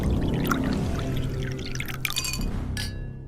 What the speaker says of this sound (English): So, got to get these 6 bottles poured.